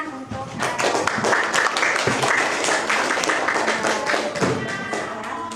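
Students in a class session clap for the top scorers on a quiz leaderboard. Brisk, dense applause with sharp individual claps and a few thumps runs steadily for several seconds.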